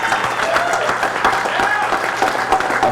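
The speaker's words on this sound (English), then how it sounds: "let's give a round of applause to Andy and his entire crew" Crowd applause at an ATV racing event, steady dense clapping filling the whole stretch at a fairly loud, even level, with some voices mixed in underneath.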